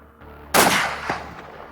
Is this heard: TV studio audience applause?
no